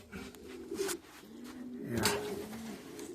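A Valenciano mix show pigeon cooing nearby in a quiet setting, two or three low rolling coos with soft rustles between them.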